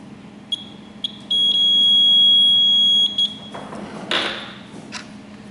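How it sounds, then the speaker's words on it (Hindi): An electronic buzzer wired into a circuit on a basic electronics lab bench gives a few short beeps, then a steady, loud high-pitched tone for nearly two seconds, followed by brief handling noise. "ये एक बज़र है जिसमें अगर हम सर्किट में कनेक्ट किया जाए तो ये आवाज़ करता है।"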